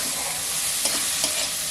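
Spice paste (masala) fries in hot oil for an egg dish, giving a dense, steady sizzle with a couple of soft stirring scrapes, close and with no talking.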